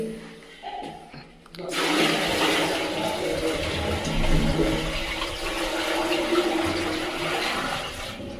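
Water poured steadily into a newly installed floor-mounted syphonic commode to check for leaks, a loud continuous gushing splash starting suddenly after a brief quiet moment and filling the bowl.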